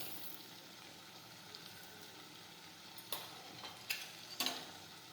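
Spices being stirred into a pan of green urad bean curry, a soft low sizzle running throughout with a few brief scraping clicks of the spoon against the pan near the end.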